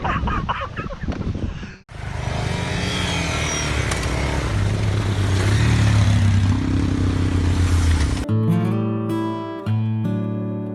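A KTM motorcycle on a gated trail ride, its engine droning steadily and loudly close by for several seconds, a brief voice before it starts and a musical passage taking over near the end.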